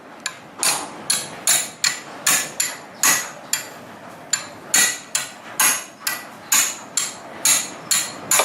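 Sharp hammer taps ring out in a steady series, about two per second, loud and close, as someone works a Honda XR80 flywheel loose.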